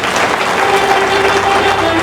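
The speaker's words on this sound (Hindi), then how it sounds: "जोरदार तालियां हो जाए दोस्तों" A crowd at a motivational talk gives hearty applause, a loud, continuous stretch of clapping with a faint tonal hum underneath.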